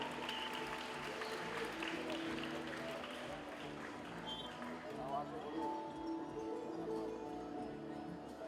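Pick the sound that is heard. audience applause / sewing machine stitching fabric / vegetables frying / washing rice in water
audience applause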